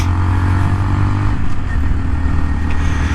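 A 2019 Honda Monkey 125cc motorcycle being ridden, its small single engine droning loud and steady throughout with a constant low hum and rough mechanical buzz, no voices.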